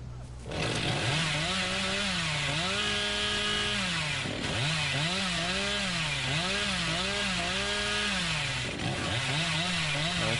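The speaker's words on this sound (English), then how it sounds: "Your first chainsaw gun." The Hillbilly's chainsaw in Dead by Daylight roars close and loud, its engine revving up and down in repeated surges over a steady mechanical drone, with a brief break partway through.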